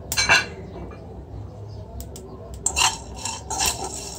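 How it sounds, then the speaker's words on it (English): Seeds stirred in a sufuria pot set on a jiko, giving scattered clinks and scrapes of metal against the pan, with a few sharper rattling bursts amid quiet. "So I'll put my seeds inside the sufuria and then I'll start stirring"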